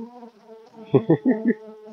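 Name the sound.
honeybee buzzing at the microphone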